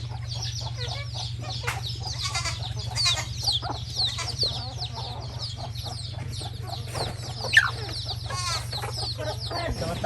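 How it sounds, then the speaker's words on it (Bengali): Village ducks and chickens feed together, with clucks and soft fowl calls scattered throughout over a steady low hum and one sharper squawk near the end. "অন্যদিকে নানির হাঁস মুরগি খাবার খাচ্ছে"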